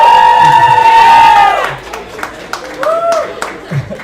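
A crowd at a girls lacrosse gathering in a pub cheers and claps, with a loud whistle-like shout at the start, then scattered claps and shouts mixed with voices.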